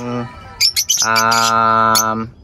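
African lovebirds chirp at a nest box, giving sharp, bright squeaks and a sustained buzzy call close to the listener, with a voice speaking just before.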